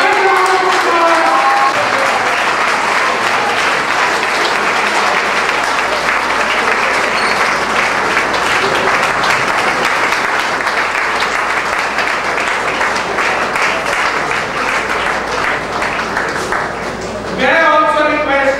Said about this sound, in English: I would request the House to give a standing ovation and a round of applause.